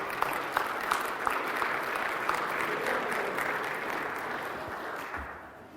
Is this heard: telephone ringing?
no